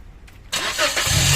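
A stock 2018 Toyota Vios with a no-start fault cranks on a start attempt, a short burst of starter whir that quickly grows into a loud, steady engine noise up close.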